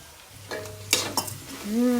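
Bajra roti pieces with fresh green garlic stirred in a hot pan, a few scraping stirs and soft sizzling bursts close up, no talking.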